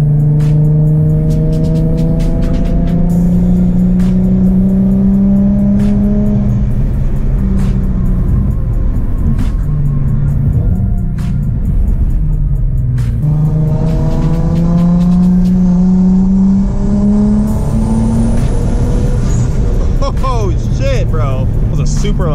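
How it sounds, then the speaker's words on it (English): A rear-mount turbo Infiniti G35 revs hard and loud, its turbo spooling up in rising whistles across repeated pulls, with the engine close throughout and someone talking between runs. "Super loud spool."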